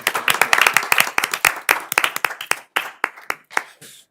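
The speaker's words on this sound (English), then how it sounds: "If I can clap, can I clap?" A small group claps at a city planning commission meeting in Inglewood, with sharp, close, uneven claps that start dense and thin out over about four seconds before trailing off into sparse final hand claps.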